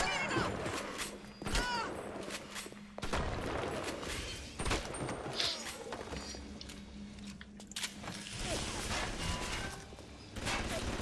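Automated turrets firing in BioShock: sustained bursts of gunfire with clanking mechanical noise, loud and continuous throughout, with some talking mixed in.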